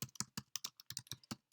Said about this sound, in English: I'll just type one more line so you can see the indent